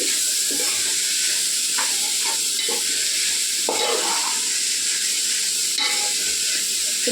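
Vegetables for vegetable fried rice stir-fry in a hot pan, giving a loud, steady hiss and sizzle while a spatula scrapes and knocks against the pan at intervals.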